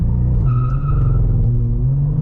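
A 2024 Cadillac CT4-V Blackwing with a manual gearbox launches hard from a standstill with slight wheel spin, its loud engine drone rising close by while a brief tire chirp cuts through.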